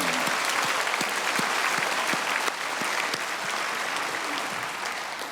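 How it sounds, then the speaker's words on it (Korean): An audience at a senior mission conference claps in sustained applause, a thick, even patter of many hands filling the hall and tapering slightly toward the end, with no talk over it. "우리 한 번 더 박수하세요."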